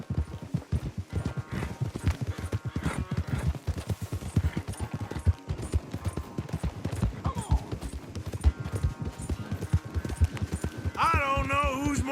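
A horse gallops at full speed during a race in Red Dead Redemption 2, with steady, rapid hoofbeats running continuously under game music and a brief whinny-like tone near the end.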